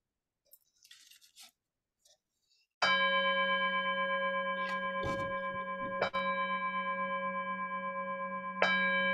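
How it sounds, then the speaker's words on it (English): Meditation bells are rung during a Zen sitting session. After brief faint rustles, a loud bell strikes and rings with a long sustained tone, and it is struck twice more while the earlier tone still hangs. "I'll ring the bells"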